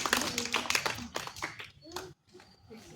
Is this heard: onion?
no